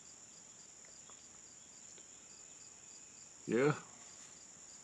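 Autumn insects chirp in a steady, unbroken high drone across the whole stretch, with one short spoken word breaking in near the end.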